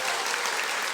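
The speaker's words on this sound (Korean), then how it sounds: "다시 한번 큰 박수 부탁드리겠습니다" Brief burst of loud, dense clapping from an audience after a lecture on the Constitutional Court at a citizens' academy.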